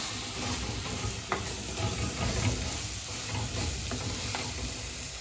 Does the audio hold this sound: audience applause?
no